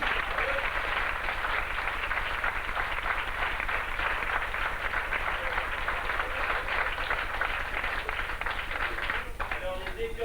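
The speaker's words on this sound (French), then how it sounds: "Je vous demande de les applaudir." A theatre audience applauds the ticket-desk and bar staff after a show, with dense, steady clapping from many hands that carries on without a break and thins slightly near the end.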